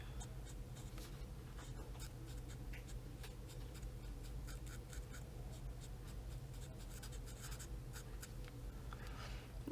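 Steady scratchy strokes of coloring on a fancy goldfish picture in a coloring book, close and quiet, with a continuous rhythmic scribbling texture and no talking.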